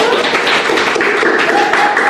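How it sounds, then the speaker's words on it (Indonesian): Audience applause closing a talk event on misconceptions about East Nusa Tenggara province, a steady dense wash of clapping lasting the whole moment with some voices mixed in. "Tepuk tangannya dulu"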